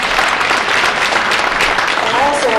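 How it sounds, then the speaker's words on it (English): A large indoor audience applauds event organizers at a World Press Freedom Day celebration in Toronto, a steady dense wash of clapping throughout, with a faint voice surfacing near the end. "if we could just give them a big round of applause"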